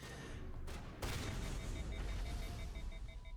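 Dense, continuous gunfire and booming explosions from a Mass Effect battle, loud and busy throughout with a sharp burst about a second in.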